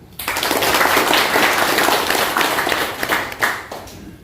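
Sustained audience applause at a pencak silat martial arts school gathering in Magetan, a dense crowd of hands clapping steadily and fairly loud for a few seconds, then thinning and tapering off toward the end.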